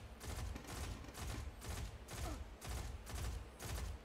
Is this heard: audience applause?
no